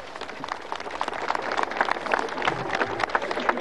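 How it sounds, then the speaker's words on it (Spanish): A crowd applauds at the handover of a vehicle bridge in Aiquile, Cochabamba, during a speech by Evo Morales; dense, steady clapping from many hands continues throughout, fairly loud and outdoors. "No sé por qué están aplaudiendo"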